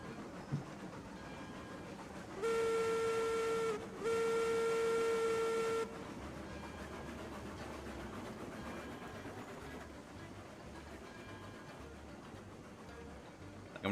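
A steam train in the Railroads Online video game gives a loud two-part whistle blast over a steady rolling rumble and rhythmic wheel clatter.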